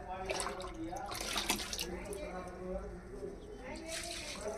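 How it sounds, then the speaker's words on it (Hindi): Water poured onto potted plants and trees on a morning, splashing and trickling steadily, with birds chirping in the background and a person speaking over it. "आज सुबह सुबह जिमी पेड़ पौधों में पानी डाल रहा है"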